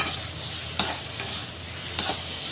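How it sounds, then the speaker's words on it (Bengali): Potatoes fry in oil with salt and turmeric, making a steady, moderate sizzle broken by a few sharp clicks of a spoon stirring against the pan. "আলুটা অল্প পিছলে হয়, সেই জন্য আমি তেলের মধ্যে লবণ আর হলুদ দিয়ে ভাজা নিচ্ছি।"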